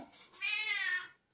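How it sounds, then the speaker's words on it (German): A pet cat gives a single close meow with a short chirp at the start, rising into a long, drawn-out wail that lasts about a second before cutting off. "falls ihr es hier irgendwie jaulen hört, das ist meine kleine Miezekatze"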